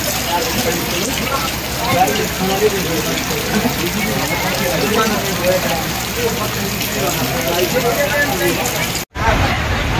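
Heavy rain pours down on an outdoor stage during a night-time natak performance in Sunabeda, a dense steady roar of drops on surfaces that fills the whole clip before cutting off abruptly near the end.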